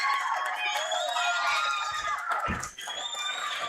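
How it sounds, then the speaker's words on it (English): Good-sized crowd filling most of the seats in a high school gym during a WIAA D4 sectional semifinal volleyball match, De Soto at Highland, a steady busy murmur of chatter and shouts with a brief dip near the end. "And a good-sized crowd here"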